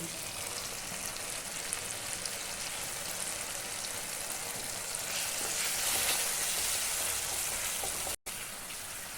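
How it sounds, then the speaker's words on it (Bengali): Ground spices and green chili paste (salt, Kashmiri chili, turmeric, cumin, coriander) frying in oil in a pan for an eggplant yogurt curry, a steady dense close sizzle that briefly cuts out near the end. "মশলাগুলো দেখুন খুব সুন্দর করে ভাজা হয়ে গেছে"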